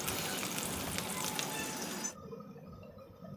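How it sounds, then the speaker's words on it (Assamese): Potatoes and broiler chicken sizzling with onions in a frying pan, a dense steady hiss that drops off sharply partway through, leaving a quieter low crackle. "আলুখিনিও ফ্ৰাই কৰিম আৰু একেলগে পাৰ মাংসখিনিও দি দিলোঁ ধুনীয়াকৈ ফ্ৰাই হ'বলৈ দি দিওঁ"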